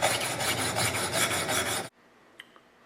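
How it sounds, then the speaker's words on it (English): An axe edge sharpened with a 200 grit diamond abrasive, loud rhythmic rasping strokes for about two seconds, then stopping abruptly into near silence with a couple of faint clicks. "now we're going to do it with the 200 grit diamond abrasives"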